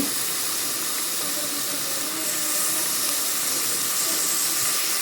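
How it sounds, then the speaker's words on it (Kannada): Tomatoes added to fried onions hiss and sizzle in a pan for a Mangalore-style fish curry, a steady loud broadband sizzle that holds without pause. "ಇದನ್ನು ಕೂಡ ನಾವು ಚೆನ್ನಾಗಿ ಫ್ರೈ ಮಾಡ್ಕೊಳ್ಳೋಣ."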